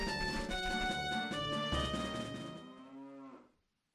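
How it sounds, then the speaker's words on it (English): A cow in The Legend of Zelda: Majora's Mask gives one long, loud, sustained moo that slides downward in pitch and cuts off cleanly. No voices are heard. "Oh, is that a cow?"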